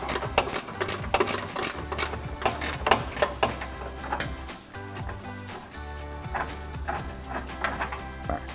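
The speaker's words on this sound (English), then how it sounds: "We're going to get that off using our ratcheting wrench." A ratcheting wrench loosens a 10mm bolt under a Chevrolet Silverado 1500, giving rapid, close, repeated mechanical clicks in uneven bursts over a low hum.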